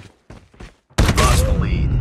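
Call of Duty Mobile gunfire, a sudden loud burst of shots with a ringing tail after a few soft thumps, under brief game voice lines.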